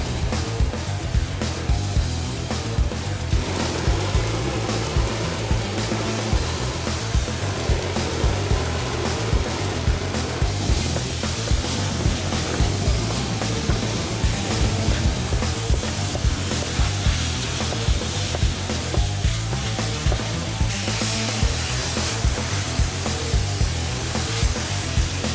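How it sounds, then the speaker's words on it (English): A shotcrete nozzle sprays concrete onto a wall in a continuous, loud, rough hiss with faint rhythmic pulses running underneath for the whole stretch, with no talking. "the concrete flows through the hoses, it goes through the nozzle, and the nozzleman starts spraying the wall"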